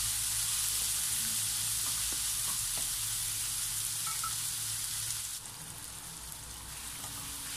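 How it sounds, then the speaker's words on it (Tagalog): Tomatoes simmer in a pan with bagoong alamang and mixed vegetables, giving a steady close sizzle and fry crackle that runs unbroken, easing slightly softer near the end. "ituloy lamang po natin ang ating pagluto hanggang sa lumambot konti yung ating kamatis"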